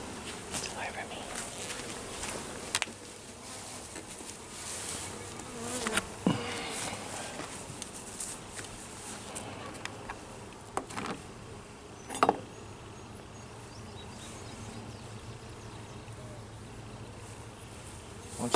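Honeybees buzz around an open beehive, a continuous, moderately loud insect hum with scattered close fly-bys, handling clicks and a few sharp knocks, under low murmured talk.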